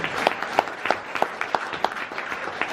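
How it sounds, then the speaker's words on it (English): Audience applause at a book launch in Melbourne's Flying Saucer Club, honoring Jeff Jenkins; steady crowd clapping with regular sharp claps standing out, moderately loud and continuous without talk. "Big round of applause for Jeff Jenkins too."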